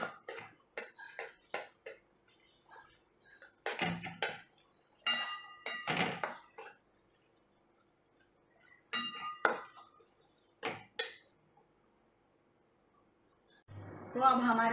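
Suji halwa with dry fruits is stirred in a pan, giving repeated bursts of metal spoon scraping and clinking against the pan with short gaps between, close and fairly loud, with a voice briefly at the end.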